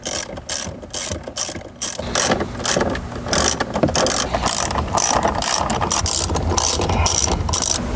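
A ratchet loosens 10mm bolts on the dashboard of a 2012-2019 Lexus LS, giving rapid, close clicking runs in repeated bursts with brief gaps and handling noise between strokes.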